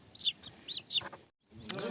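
Small chicks cheeping in short, high-pitched bursts, a few quick peeps close by, with a brief pause before more chirping.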